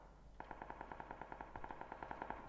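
Rapid bursts of gunfire in a video game firefight, a steady string of sharp evenly spaced shots at moderate distance, repeating for about two seconds with no talk over it.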